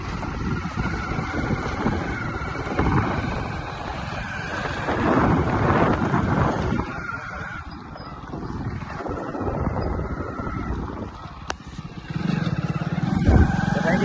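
Continuous rumbling motorbike engine with heavy wind buffeting the microphone, a steady roar that swells and dips while riding.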